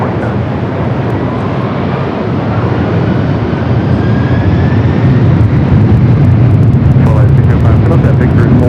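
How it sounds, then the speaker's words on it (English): Delta Boeing 767-400ER heavy jet taking off from runway 24 left at Los Angeles LAX, bound for JFK: a steady, loud broadband engine roar that holds and swells slightly across the whole stretch, with faint voices underneath. "And off to JFK in this Delta 767 400 ER."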